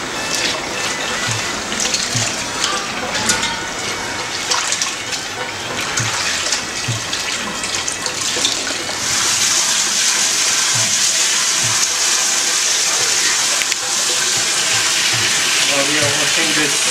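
Bandhani tie-dyed fabric from Kutch is rinsed in plain water, a steady gushing, splashing wash that continues throughout, growing denser and louder in the second half, with a voice talking faintly in the background.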